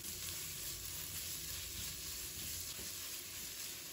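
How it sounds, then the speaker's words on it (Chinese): Minced meat stir-frying in a hot wok, a dense continuous sizzle with faint scraping of stirring, steady and close throughout. "把肉末放入锅中继续炒香，肉末一定要尽量给它炒散"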